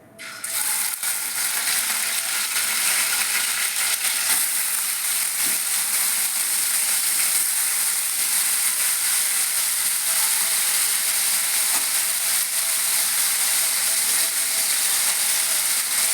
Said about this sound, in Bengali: এবার ইলিশ মাছগুলি আমি খুব সামান্য ভেজে নেবো